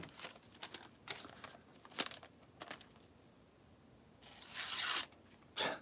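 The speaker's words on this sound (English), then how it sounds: "Let's see if this one right here will cut paper." A knife, caked with dirt, slices through paper in a series of quick, faint scratchy tearing strokes, ending in a longer rasping cut and one final short swipe, with no talk.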